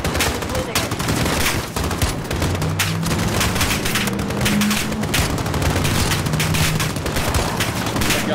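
Gunfire in Call of Duty Modern Warfare on PS4 Pro: dense, loud, continuous volleys of rapid shots with occasional booms, barely letting up, while someone talks over the fighting.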